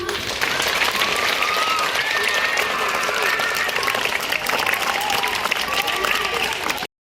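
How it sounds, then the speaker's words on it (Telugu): Audience at a school event applauds steadily and loudly for the whole stretch, dense clapping from many hands with crowd murmur mixed in. "అందరం గట్టిగా క్లాప్స్ కొట్టినమ్మా"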